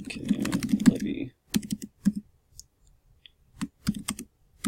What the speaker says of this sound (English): Let's type it in, Medicare levy.